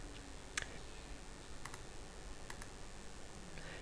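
Soft, sparse computer mouse clicks while operating SolidWorks simulation software, a handful of crisp single and double clicks spaced over a few seconds against faint background hiss.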